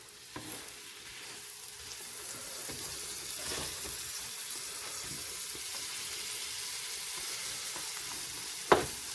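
Chicken patties sizzle in butter on an electric griddle, a steady hissing crackle with occasional sharper pops and scraping clicks, moderately quiet and with no talk.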